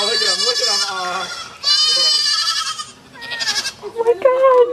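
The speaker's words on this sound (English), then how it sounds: "Crying baby goats." Baby goats on a farm bleat loudly and close by in several long, wavering cries, one after another with brief gaps.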